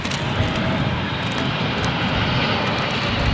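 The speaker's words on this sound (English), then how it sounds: "Saudi Arabian Airlines 777." A Saudi Arabian Airlines Boeing 777 jet at London Heathrow produces a loud, steady, broadband engine roar that fills the whole clip, close by and with no voices over it.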